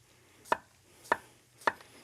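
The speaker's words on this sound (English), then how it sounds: "we're gonna cut some cucumber down real quick" Kitchen knife chopping cucumber on a board, three distinct evenly spaced cuts at about half-second intervals, close and crisp with no speech.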